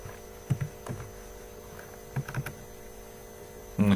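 Short bursts of keystrokes on a computer keyboard, a few scattered clusters of taps, quiet and close over a steady electrical hum.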